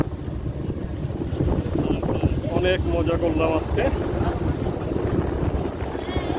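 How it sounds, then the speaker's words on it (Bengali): A small boat moving over open water on a blustery day, with wind buffeting the microphone and water rushing beneath. A person talks over the steady roar. "নৌকা ভ্রমণ"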